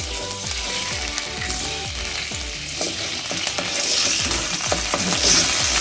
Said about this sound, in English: And now we are going to add ginger garlic paste.